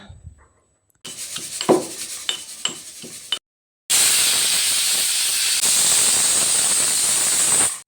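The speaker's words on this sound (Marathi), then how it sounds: "आपण आता झाकण लावूया कुकरला तीन ते चार शिट्या आपण आता काढून घेऊया" A few lid clatters and clinks, then a loud, steady hiss of steam jetting from a pressure cooker for several seconds.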